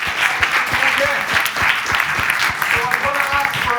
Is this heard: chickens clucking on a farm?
no